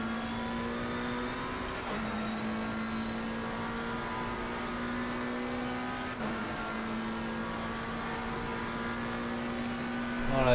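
A car in a racing video game spins around, its engine holding a steady loud drone with brief dips in pitch, continuous throughout and swelling near the end.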